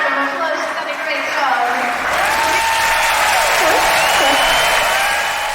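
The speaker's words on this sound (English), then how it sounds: "Let's give her a big round of applause." At a Sea Life aquarium show, an audience breaks into applause. Dense clapping builds and holds, mixed with whistle-like tones and a presenter's voice talking over the crowd.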